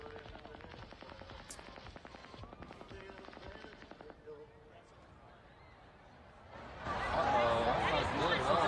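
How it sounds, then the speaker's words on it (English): Rapid bursts of automatic gunfire crackle in dense volleys during the Las Vegas shooting, distant and echoing, then give way to a louder wash of crowd noise and commotion with voices mixed in. "I think you can hear the rapid-fire gunshots at the very beginning"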